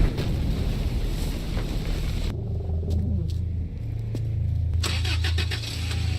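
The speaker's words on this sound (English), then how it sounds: "do you know how loud a car engine is?" A car engine in a video game rumbles loudly and steadily with a deep low drone that comes in a couple of seconds in and holds to the end, with no talking.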